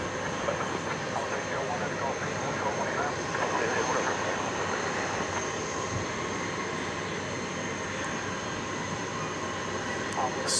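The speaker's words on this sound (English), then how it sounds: "Turkish Airlines Flight 192 is on the move" Turkish Airlines Flight 192, an airliner, taxis at DFW Airport at night, giving a steady, moderately distant engine hum and whine that holds even throughout, with no talk over it.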